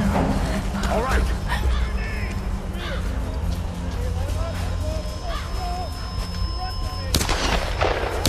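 Rapid gunfire and heavy blasts crack through a firefight in the video game Tomb Raider: Definitive Edition, loud and continuous over game ambience, with voices shouting during the battle.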